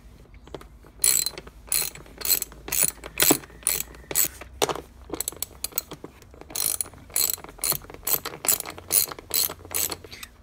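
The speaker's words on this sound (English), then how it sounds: "What I have here is a 10 millimeter wrench. There's two bolts here and here that hold the actual strap, passenger strap, onto the bike." A 10 mm ratcheting wrench clicks in rapid repeated bursts while loosening bolts that hold the passenger strap on a Yamaha FZ-09 motorcycle, close and crisp with brief pauses between strokes and no talking.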